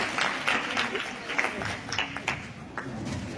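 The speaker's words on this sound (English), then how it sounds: "Let's give them one last round of applause." Audience applause at a live park-day session, a steady wash of many hands clapping throughout with some crowd noise mixed in, fairly close and moderately loud.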